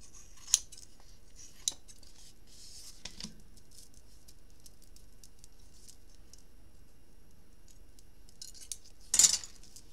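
Scissors trim paper for a memory book in a quiet room, with a few isolated, widely spaced snips and a louder, brief cutting burst near the end.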